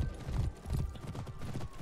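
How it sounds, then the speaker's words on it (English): Horse hooves gallop in a rapid, rolling clatter in the For Honor video game, close and loud, repeating in quick bursts without a break. "The horse is running."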